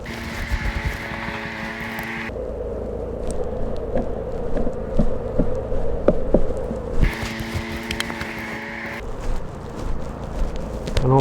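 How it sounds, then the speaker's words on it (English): Honey bees on a hive frame, nurse bees shaken off during a hive split, give a steady harmonic hum that swells loudly at the start and again later, with a rougher, scratchier buzz and small knocks in between. "Grab all these nurse bees."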